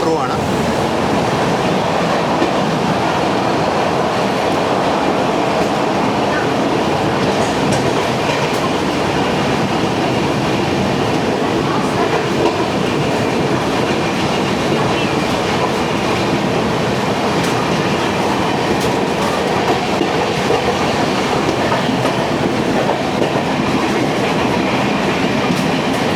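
A Duronto Express AC train on a run-through at Thane station, platform 8, with a steady loud rumble and rhythmic clickety-clack of the wheels on the track lasting throughout, heard from on board.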